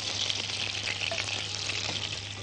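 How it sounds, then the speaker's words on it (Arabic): Potatoes sautéing in butter and oil in a pan: a steady, dense, close sizzle with faint crackles and no speech. "ادي الزبده هنحطها، ونحط معاها معلقتين زيت،"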